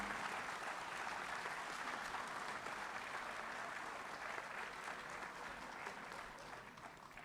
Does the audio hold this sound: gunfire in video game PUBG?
no